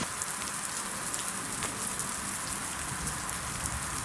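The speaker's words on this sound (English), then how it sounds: "So that's the Sondering River in full flow as the rain's coming down." Steady rain falls beside the Sondering River in full flow, a dense, even hiss of drops throughout with no talking.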